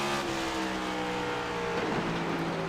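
A stock race car at Rockingham roars on track as its driver plays with the throttle, a loud close engine drone whose pitch dips and rises, with a faint squeal of tires and no voices.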